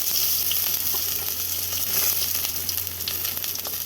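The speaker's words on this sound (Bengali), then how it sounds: "তো সর্ষের তেলটার মধ্যে এবার আমি দিয়ে দেবো কেটে রাখা আলুগুলো।" Cut potatoes fry in hot mustard oil in a pan, giving a steady, dense, close sizzle with a faint crackle throughout and no talking.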